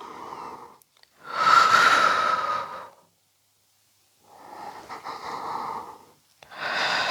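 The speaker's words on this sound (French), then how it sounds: "J'inspire vers l'arrière et je souffle." Slow, deep breaths during a Pilates exercise, a long audible inhale followed by pauses and drawn-out exhales, close and breathy with quiet gaps between, no talking.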